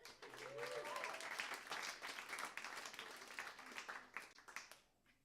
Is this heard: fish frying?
no